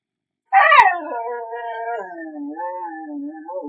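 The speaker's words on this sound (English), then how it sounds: "that dog won't shut the hell up" A dog howls in long, wavering, drawn-out tones that start abruptly and slide downward, fairly close and alone, with one sharp click near the start.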